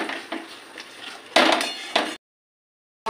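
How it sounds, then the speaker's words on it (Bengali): Fried boiled potatoes are stirred with spice paste in a pan for a jackfruit kofta dish: a few close scrapes and clatters of the spatula, then abrupt silence. "এবার মশলার সাথে একটু কষিয়ে নেবো"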